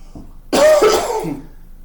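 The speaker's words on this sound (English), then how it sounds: "I'm gonna cough." A single sharp, loud cough close by, with a raspy throat-clearing tail, preceded by a brief quiet breath.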